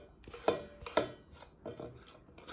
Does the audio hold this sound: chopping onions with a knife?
yes